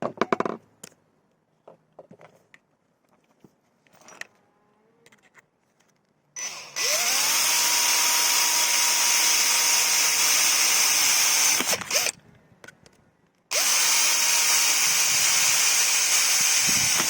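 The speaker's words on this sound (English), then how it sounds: "Nine mm, 3/8 inch metal drill, the same size as the banana connector." An electric drill with a 9 mm (3/8 inch) metal bit bores holes in metal, running in two long, loud, steady whining stretches of several seconds each after some faint handling clicks, close up and with no talk.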